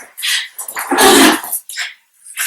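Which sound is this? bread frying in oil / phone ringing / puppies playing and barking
puppies playing and barking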